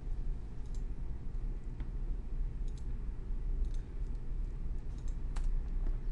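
Chart title being typed on a computer keyboard, faint irregular key clicks scattered over a low hum of room noise.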